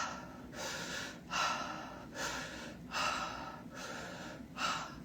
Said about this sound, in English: So it's an inhale and then an inhale and then an exhale.